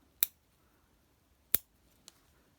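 Scissors snip through a vintage lace doily, two crisp close cuts about a second apart followed by a fainter third snip in an otherwise quiet room.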